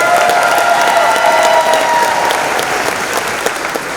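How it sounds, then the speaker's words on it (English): An audience at a teacher welcome and Teacher of the Year 2024 event applauds, a dense, steady clapping from many hands that holds and then slowly tapers. "Let's give her a round of applause."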